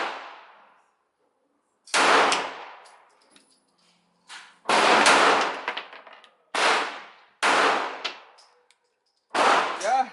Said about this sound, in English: Yeah, I think she's shooting low.